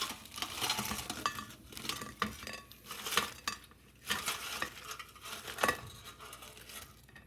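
Clinking of a metal basket and utensils as air-fried Red Robin fries are taken out of an air fryer, with scattered close knocks and scrapes and a soft rustle of fries, no talking.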